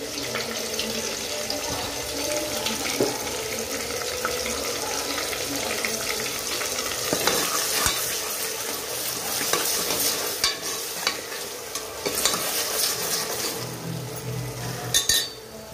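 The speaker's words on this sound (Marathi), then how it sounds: "तोपर्यंत कुकरमध्ये मसाला असा छान फ्राय होतोय" Malvani chicken masala paste frying in a pressure cooker, a steady close sizzle with scraping stir strokes throughout and a few clatters near the end, with no talk.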